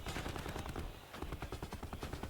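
ICR rifle fire in a Call of Duty pro league match, rapid automatic bursts with a short pause midway, steady and close with no talk over it.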